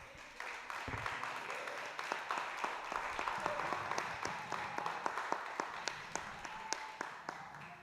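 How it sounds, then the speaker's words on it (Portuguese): A church congregation applauds after a sermon, with sustained crowd clapping in a reverberant hall and sharper individual claps standing out over several seconds. "Você pode aplaudir essa palavra?"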